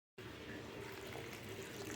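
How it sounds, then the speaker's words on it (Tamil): Water is poured into a simmering pot of dal kootu made with milaguthakkali keerai, giving a steady, close gushing pour that starts abruptly and runs continuously without a break. "இதுக்கு தேவையான அளவு தண்ணி ஊற்றிக்கலாம்."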